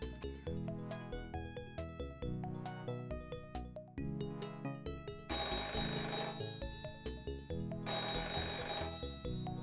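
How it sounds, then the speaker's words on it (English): A telephone rings repeatedly in the adventure game The Clue!, its electronic bell tones pulsing in bursts over a busy musical backdrop, moderately loud and with no talking. "We've got a phone call for you here."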